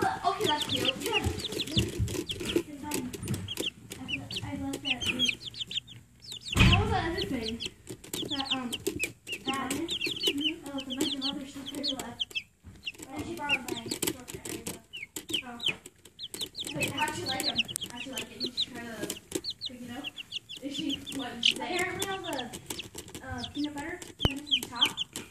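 Young chicks cluck and peep steadily around a new watering nipple drinker, a busy close chorus of chirps with occasional wing flaps and a person talking quietly among them.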